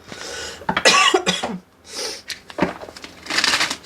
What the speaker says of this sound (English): I've got a smoker's cough